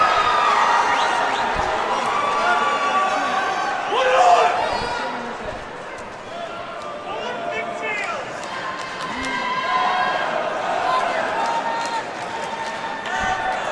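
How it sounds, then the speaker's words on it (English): An arena crowd at a professional MMA main event roars and cheers steadily throughout, loud and dense, with surging shouts and whistles while commentators talk over it. "Crowd's really into this one"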